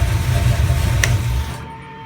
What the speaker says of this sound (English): Car shuts off.